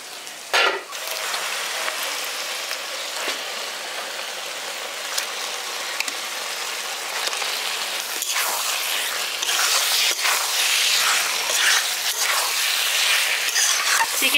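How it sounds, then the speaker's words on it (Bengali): Marinated chicken, cooked village-style for chicken kosha, sizzles loudly in a pan with a dense, rain-like hiss that swells after a sharp clatter near the start, with scattered crackles and no voices. "এবার ম্যারিনেট করা চিকেনটা দিয়ে দিচ্ছি।"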